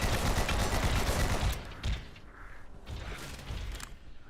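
Sustained rapid gunfire from a weapon in the Abiotic Factor video game, loud and dense for the first second and a half, then scattered bursts and shots with mechanical clatter trailing off.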